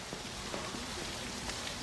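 Rain pours down outdoors at a construction site, a constant broadband hiss of drops spattering on surfaces, with nothing else standing out.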